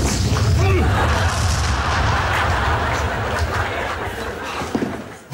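A heavy, rumbling missile blast fills the space with sustained roaring noise that slowly fades, followed by a sharp crack near the end.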